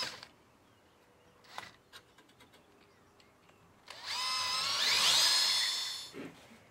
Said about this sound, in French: les pattes sont là, on va percer.